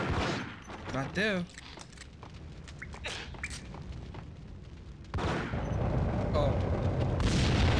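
Gunfire in the video game Max Payne crackles in rapid bursts and scattered shots over a busy background, growing denser and louder toward the end, with people talking briefly over it.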